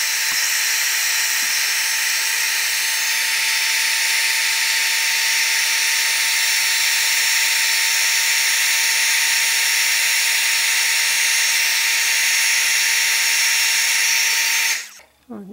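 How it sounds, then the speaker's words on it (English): An embossing heat gun blows continuously to melt embossing powder on a crayon-stamped card, giving a loud, steady whirring fan hiss with a faint whine that holds level and then cuts off abruptly at the end. "So I'm using an embossing tool or embossing gun."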